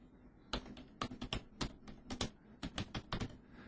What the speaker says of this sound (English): And the sound of typing over the internet.